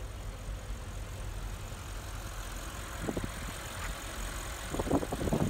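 A 2017 Audi S8 Plus 4.0T engine idles with a steady low rumble, joined by a few brief clicks and rattles near the end.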